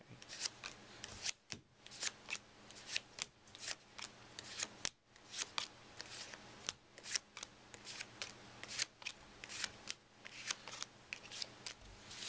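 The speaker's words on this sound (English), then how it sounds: "Then I'm going to start to deal out the cards." Playing cards being dealt one at a time onto a table, some face up and some face down, making a quiet, steady series of crisp flicks and soft slaps in close, even rhythm.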